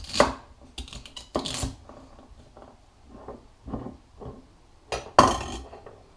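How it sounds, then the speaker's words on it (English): Knife chopping celery coarsely on a board, a few sharp clustered chops with pauses between, close and moderately loud, no talking. "And then the same thing with the celery. Just super coarsely chop."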